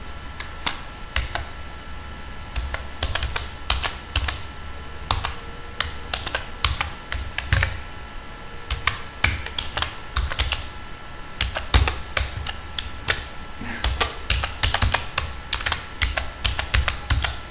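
Typing on a computer keyboard that is not working well, with steady irregular key clicks and taps close up, running continuously in bursts over a faint room hum.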